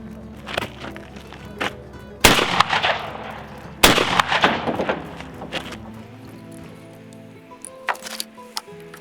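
A shotgun firing a reloaded Remington STS shell outdoors: two loud sharp blasts a second or so apart, each with a ringing tail, among scattered handling clicks and thumps.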